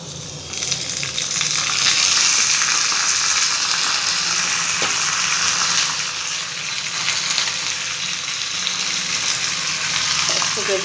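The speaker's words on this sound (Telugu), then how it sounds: "ఇప్పుడు కరివేపాకు వేసుకుందాం." Curry leaves drop into tempering oil already holding chana dal, mustard seeds, cumin, garlic and dried red chillies, setting off a loud, sustained sizzling hiss that surges, then settles into a steady crackle for several seconds.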